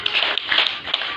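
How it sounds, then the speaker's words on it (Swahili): A church congregation claps during a sermon, a short burst of scattered, uneven hand claps lasting about a second. "Pigia Yesu makofi"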